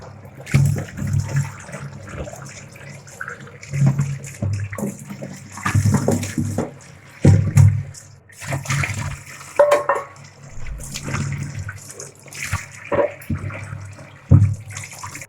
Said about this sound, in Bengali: এবার আমরা পটলগুলোকে ভালো করে ধুয়ে নেব।